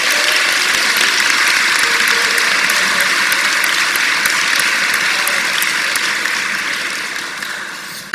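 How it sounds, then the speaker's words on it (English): An audience applauds an orchestra and a community choir at a concert, a dense, loud, steady wash of clapping that holds for several seconds and then slowly thins toward the end. "Give them a round of applause to get them going."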